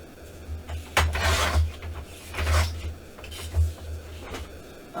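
Paper edge of a handmade Halloween craft folio trimmed with a cutting tool, giving repeated rasping strokes at close range, about three or four scraping passes in a row with no talking.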